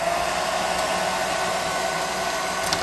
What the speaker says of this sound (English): I'm gonna hit it with the hair dryer, aka +5 hot air gun